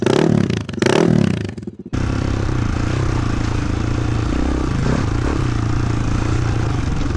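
A Honda XR400 four-stroke motorcycle engine idles while the bike rolls uphill, a steady close low thumping putter after a brief louder rumble at the start.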